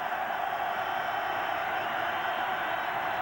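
Stadium crowd at a 1987 Ohio State at LSU college football game roars as a steady, dense wall of noise, distant and continuous with no distinct voices.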